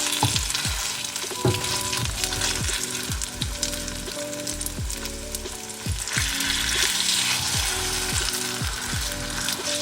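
Seitan steaks frying in a pan, a steady loud sizzle punctuated by regular scraping knocks from a utensil moving the pieces around.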